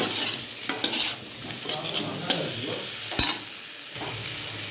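Cauliflower fries and sizzles in a pan with chili powder while being stirred, crackling steadily with scraping stir strokes and a sharp clatter near the end, close and fairly loud, no talking.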